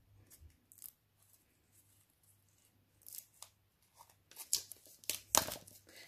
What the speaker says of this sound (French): je vais ouvrir le plastique pour qu'on puisse observer les cartes plus en détail